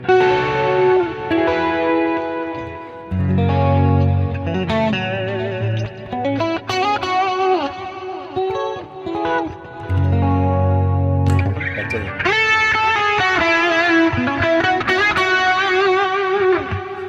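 Electric guitar run through effects, shifting between chorus-like shimmer, echo and distorted tones across several short phrases, played alone and fairly loud.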